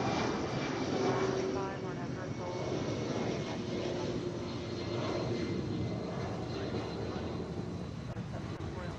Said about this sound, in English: That's a 757.